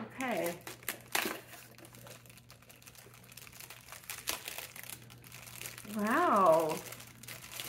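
A taped-together package is cut open with scissors and unwrapped, giving crinkling and crumpling of paper or plastic with scattered snips and rustles, close and moderately loud; a person speaks briefly between the handling noises.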